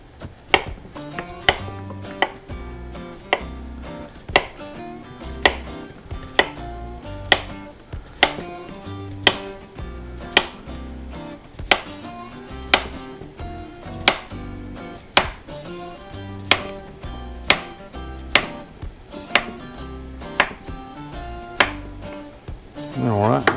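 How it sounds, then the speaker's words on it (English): A knife cutting cucumbers into big slices for pickles, with sharp regular chops on a board repeating at an even rhythm, close and loud, over musical accompaniment. "I'm going to cut the end off of that, and these going to be some big old slices."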